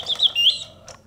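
A Reuge platinum model singing bird cage mechanism, freshly cleaned, adjusted and lubricated, whistles a short bird song on its pause setting. Bright trilling chirps rise and fall, then a brief final twitter, close and clear.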